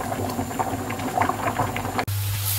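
Rice boiling in a pan, a steady close bubbling and rolling simmer that cuts off abruptly near the end, leaving a quieter hum.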